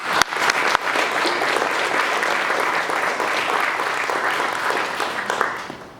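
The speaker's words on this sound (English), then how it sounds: "they really deserve a round of applause" A church congregation at a 60th anniversary gathering breaks into warm, sustained applause that begins with a few sharp claps and builds into a steady roar of hands before it fades at the end.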